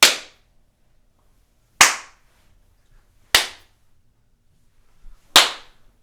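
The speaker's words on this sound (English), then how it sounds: "so we're just going to do a clap test" Four single hand claps in a bare room stripped of acoustic foam, each a sharp, loud crack followed by a short bright ringing decay, spaced unevenly with silence between them.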